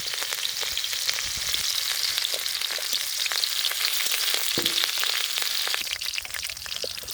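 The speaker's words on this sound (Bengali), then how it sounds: "প্রথমে কড়াইতে তেল দিয়ে পেঁয়াজ রসুন ঝাল দিয়ে" Onion, garlic and green chilli fry in hot oil in a wok, giving a loud, continuous sizzle and crackle that holds steady throughout with no talking.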